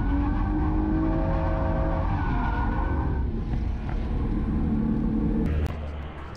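A car drifts hard with its tires skidding and squealing over a loud, sustained engine roar that eases off near the end.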